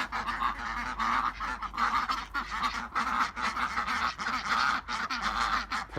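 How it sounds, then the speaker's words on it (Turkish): Geese with goslings honk repeatedly in a garden, a close, loud run of overlapping nasal calls in an irregular rhythm, with no talking. "Kazlar bahçede dediğim gibi"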